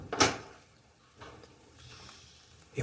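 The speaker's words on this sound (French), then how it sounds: "Allez fermer cette porte." An interior door in a bedroom eased shut very gently, giving a short soft knock at the start, then faint muffled bumps and creaks, quiet and close.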